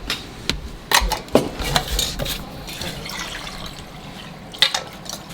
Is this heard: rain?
no